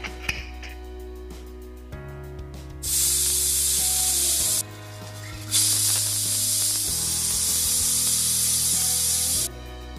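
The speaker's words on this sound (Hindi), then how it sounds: "4 से 5 सीटी होने देना है आपको।" Pressure cooker whistling on the stove while tomato soup cooks, a loud, steady hiss of escaping steam that starts, stops briefly, then resumes, with a low hum running underneath.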